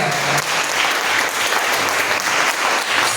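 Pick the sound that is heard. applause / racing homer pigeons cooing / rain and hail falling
applause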